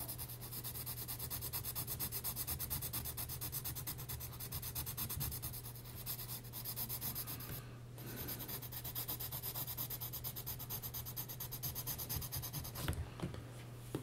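A pencil draws an eye on paper, making a steady, close scratchy rubbing of graphite strokes that continues almost unbroken, with brief pauses and a low constant hum underneath.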